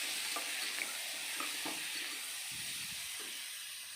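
Onions, curry leaves and tomatoes sauté in a pan with a steady close sizzle and hiss, and a few light stirring scrapes and clicks over it.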